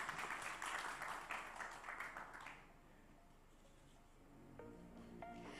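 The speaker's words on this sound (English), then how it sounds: "let's welcome him with your huge round of applause" An audience at a healthcare technology conference claps warmly for a couple of seconds, then the applause dies away into quiet before a voice begins.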